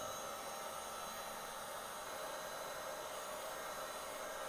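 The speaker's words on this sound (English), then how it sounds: "now I'm going to take my heat gun. I'm just going to heat it up a little bit." Continuous, even airy roar of a heat gun blowing on a wheel before wheel weights are fitted, loud and unbroken from start to finish with no talking.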